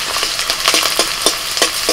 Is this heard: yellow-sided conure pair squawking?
no